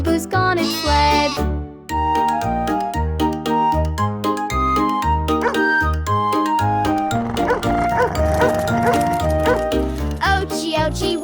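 Repeated woofs of a dog bark within a bouncy children's song, popping out in rhythm over loud, busy music that plays throughout.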